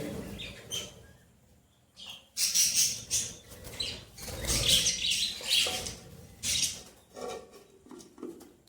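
Pet birds at their clay nesting pot holding six eggs, a male and female pair, give bursts of bright, high chirps and tweets, close and fairly loud, with quieter stretches and faint rustling between calls.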